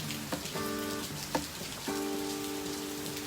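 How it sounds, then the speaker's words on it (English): Steady, heavy rain hisses throughout, with a few sustained tonal notes sounding over the downpour. "I hope you've heard the rain pouring in the background"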